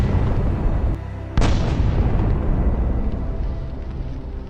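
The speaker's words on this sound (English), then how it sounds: "Then the javelin destroys another Russian armored vehicle." A Javelin anti-tank missile strikes a Russian armored vehicle, setting off a sudden loud boom over a constant roar of low rumble, then a long dense rumbling tail that fades slowly, with no voices.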